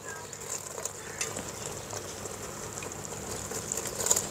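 Sugar syrup simmering in a pan on the stove, a soft steady sizzle and bubbling with faint stirring scrapes, close and fairly quiet throughout.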